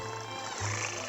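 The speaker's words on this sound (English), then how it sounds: "He's purring. He's a kitten." Cartoon kitten purring in a 1959 animated short, a soft low rumbling purr in two brief pulses, quiet and close.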